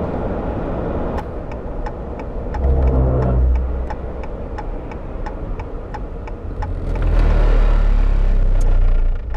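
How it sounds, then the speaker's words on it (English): A 2015 Ram 1500 EcoDiesel pickup drives over a rumble strip, making a rapid, regular train of sharp thumps over loud road and engine noise that swells twice. "That's just a rumble strip."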